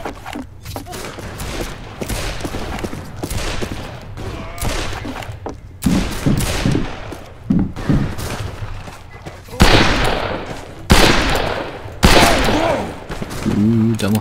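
Repeated gunfire from the Western shooter video game Fistful of Frags, a series of sharp, loud shots in bursts and single cracks across the span, with someone talking between and over them.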